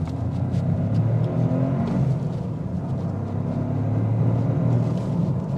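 A 2025 Toyota GR Corolla Core hatchback accelerates through a bend, its engine giving a steady, loud low rumble and whir with rising revs from inside the cabin, without talk.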